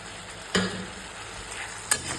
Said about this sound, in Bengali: এবার আমি ছেড়ে দেবো এখানে আলু